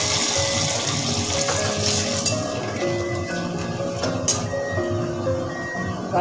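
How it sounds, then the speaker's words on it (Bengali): Potatoes frying in well-heated oil with a pinch of salt: a steady, dense crackling sizzle throughout, close and fairly loud, with no talking. "তেলটা ভালোই গরম হয়ে গেছে, এবার আমি প্রথমে আলুটা ভেজে নেব।"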